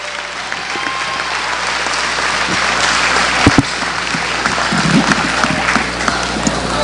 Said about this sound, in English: Please give each of our seniors one more round of applause for their dedication and commitment to Madison Central and our community.